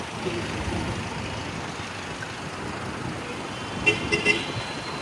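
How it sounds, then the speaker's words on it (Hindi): Street traffic in Alexandria, Egypt: a steady wash of passing cars and engines, with a few short car horn toots near the end, moderately loud and continuous. "ये कुछ ट्रैफिक चेक करें आप अलेक्जेंड्रिया के बीच"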